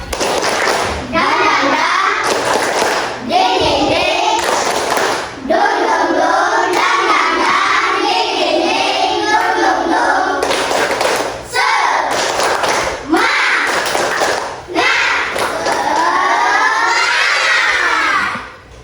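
Schoolchildren in an Indonesian primary classroom perform the tepuk semangat clapping chant, loud rhythmic bursts of hand claps alternating with chanted group voices, with short pauses between rounds.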